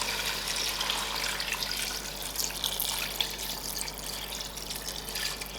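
A liter of water pours in a steady stream into a pot of lamb stew, a continuous close splashing hiss with no talking.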